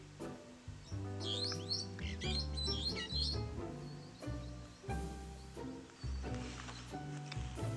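Meyer's parrot, also called the brown parrot, giving shrill, rapid calls and chatter in bursts over a continuous backdrop of other birdsong and ambient noise.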